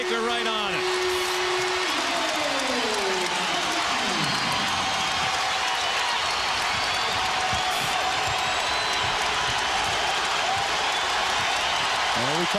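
Dense, loud crowd roar fills a college basketball arena during an NCAA game between Pittsburgh and Louisville, steady and broad throughout, with an announcer's voice over the noise early on.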